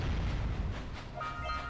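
A heavy cannon shot in the Jak and Daxter: The Precursor Legacy video game lands as a deep, rumbling boom, followed by a fainter electronic tone near the end, with no talk.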